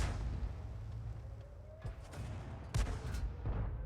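Hummel self-propelled artillery gun firing in a video game battle, a couple of heavy booming blasts standing out over steady rumbling engine and battlefield noise.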